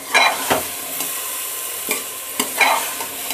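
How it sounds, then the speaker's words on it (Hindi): A spoon stirs jackfruit curry with spices in a pan, giving a few scraping strokes and clicks over a soft sizzle, close up and with no voices. "और इसे हमें यूं ही चलाते रहना है ताकि सारे मसाले कटहल में मिक्स हो जाए।"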